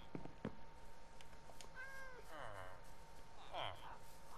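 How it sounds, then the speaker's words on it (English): A cat meows in Minecraft, a couple of short rising-falling mewing calls heard over steady game ambience and background noise. "It's a cat."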